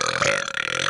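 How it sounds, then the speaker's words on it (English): A single wet, tonal burp from a trivia video game, sounding loud and close for under a second with no voices alongside. "Eructation is the classy word for burp"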